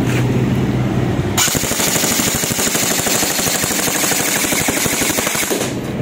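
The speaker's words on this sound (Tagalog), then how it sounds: "So yan, full auto ulit natin." A modified HK416 airsoft rifle fires on full auto in a long, loud, rapid rattling burst that starts after a brief pause and runs for several seconds, with no talking over it.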